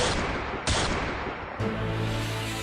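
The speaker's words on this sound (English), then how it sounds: "gunshots have been ringing out here at Littleton High School" Gunshots from a news report recording about Littleton High School: harsh, noisy blasts with sudden loud onsets at two points, over a dense, crackling background.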